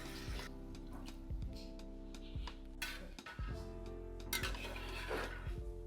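Mutton nalli nihari being stirred in a metal pot, a spoon scraping and clinking against the sides in irregular strokes with a couple of sharper knocks, close and fairly quiet, no talking.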